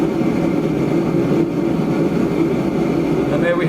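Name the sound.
MASTER BLP 17M DC battery gas heater igniting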